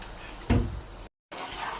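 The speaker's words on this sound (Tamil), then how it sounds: "இப்போ நல்லா சிக்கன் சுண்டி வருது." Chicken simmering down in oil in a pan for a Nallampatti chicken recipe, a soft continuous sizzle and bubbling heard close, with one louder stir-like swell and a brief gap of silence.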